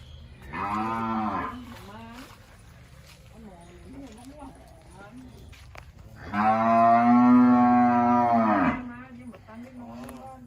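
Cattle in a cow pen beside a rural house low a few times, two long loud bellowing moos with fainter calls between, close to the microphone.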